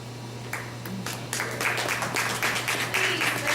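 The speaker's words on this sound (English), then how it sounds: "let's give him a round of applause for excellent presentation" An audience applauds at a lecture after a presentation, starting as a few scattered claps and then swelling into steady clapping from many hands over a constant low hum.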